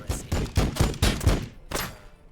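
Gunfire from a unit shooting in the strategy game Warhammer 40000 Battlesector: a rapid burst of roughly six loud, punchy shots in quick succession, ending with one last shot and a fading tail.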